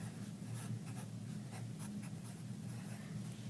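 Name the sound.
pencil writing on paper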